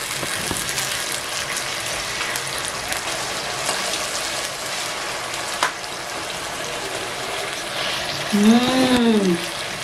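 Garlic ginger paste fries with onions in a hot pan, a continuous moderate sizzle with occasional stirring scrapes, and a brief tonal chirp near the end.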